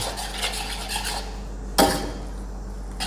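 A metal spatula tip scrapes and stirs rice vermicelli with tofu in a pan while cooking mee kati, a coconut-milk noodle dish. Soft, repeated rubbing gives way to one sharp clatter over a steady low hum.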